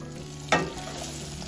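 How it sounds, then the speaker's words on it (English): A stick of butter is stirred into a melting caramel mixture in an Instant Pot, with one brief scrape of a spoon over a low, steady bubbling hum, quiet and close. "add 1 stick or 8 tablespoons of butter. Mix that in."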